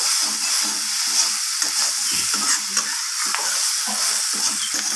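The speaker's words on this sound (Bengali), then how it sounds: "রান্নাটা কষানো হচ্ছে যত" A fish roe and vegetable curry is stir-fried in a pan, giving a loud, constant sizzle with repeated rhythmic scraping and stirring strokes close by.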